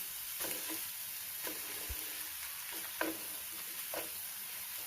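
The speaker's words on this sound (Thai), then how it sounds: "คนเครื่องปรุงให้เข้ากันนะครับ" Instant noodles with plenty of vegetables and seasonings stir-fried in a pan give a steady close sizzle, broken by light scraping and ticking stirs at irregular intervals, with no voices.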